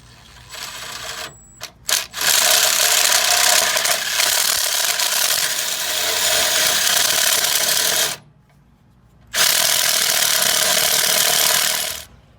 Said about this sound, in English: I need to drill it to about a 7/16.